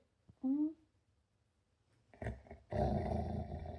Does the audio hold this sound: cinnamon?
no